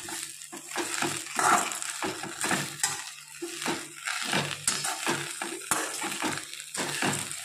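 Curry leaves and coriander roast in a pan, with a spatula scraping and clinking against the metal in quick irregular strokes over a faint sizzle, close and fairly loud, no voices.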